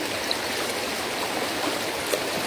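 Flowing river current rushing steadily in a continuous broadband wash, close and even throughout with no talk.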